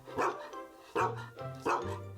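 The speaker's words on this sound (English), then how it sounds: "Cheese barked at Rebecca" A dog barks three times in quick succession, sharp nearby yaps spaced under a second apart with no other sound between them.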